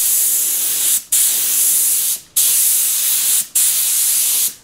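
Spray gun spraying linear polyurethane paint onto tail mold plates, four loud, close hissing bursts with brief silent gaps between them.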